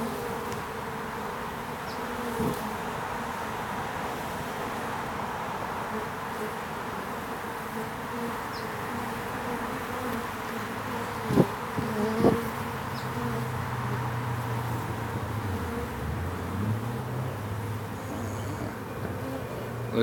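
Honey bees buzz in a steady, moderately quiet drone as they circle while their hive is moved to a new position during working hours, with a low motor-like hum sweeping in near the end.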